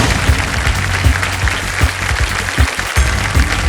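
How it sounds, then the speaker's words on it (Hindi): A studio audience on the Kaun Banega Crorepati quiz show bursts into brief, loud clapping for the contestants, a thick, close round of applause with scattered sharper claps. "तालियां बज जाए इनके लिए"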